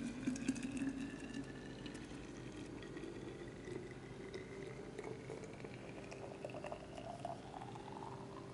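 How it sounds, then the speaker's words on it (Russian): Homemade prune drink poured from a pot into hot oven-warmed bottles, a steady liquid gurgle and splash with bubbling undertones, close and continuous, no talking. "Я наливаю напиток из чернослива в горячие бутылки из духовки."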